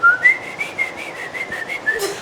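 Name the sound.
person whistling a melody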